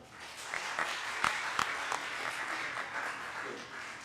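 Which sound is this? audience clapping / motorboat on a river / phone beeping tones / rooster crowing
audience clapping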